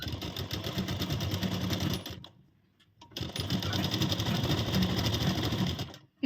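A sewing machine with a size 14 needle stitching stretchy blouse fabric, a fast, steady mechanical whir-and-clatter that stops briefly in the middle, then resumes at full pace and halts at the end.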